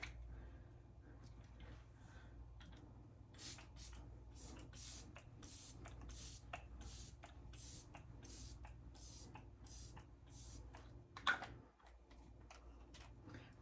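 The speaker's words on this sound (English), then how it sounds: "So I'll just spritz this." Laura Mercier Translucence Pure setting spray is spritzed in a quiet room, about a dozen short hissing bursts in a quick, fairly even series, faint and close.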